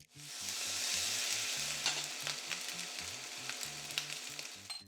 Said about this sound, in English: and then into the wok goes the rice